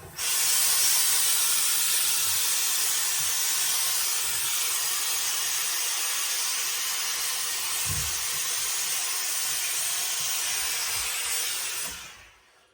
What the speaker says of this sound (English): Let's introduce some steam, and we'll give it a bit of a stretch over the block